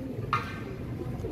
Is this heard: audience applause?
no